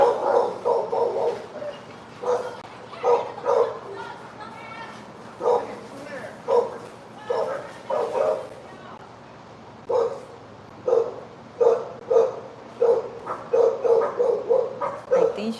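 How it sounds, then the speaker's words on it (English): Dogs bark and yip in repeated bursts as one tries to fight another upstairs, loud and close, with short pauses between volleys and some whimpering. "he's trying to fight with the upstairs dog."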